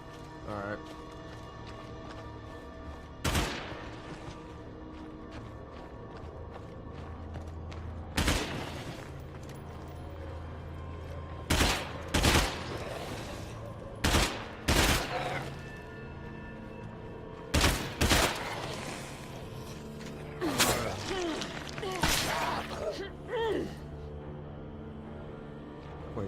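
Gunfire in the video game State of Decay comes as scattered sharp shots and short bursts spread through the clip, loud against a steady background, with people talking between them.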